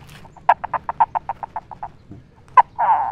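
A wet string noisemaker imitates a rooster chasing a hen, giving a loud close burst of about a dozen rapid clucking squawks, then one more squawk and a harsher rasping call at the end.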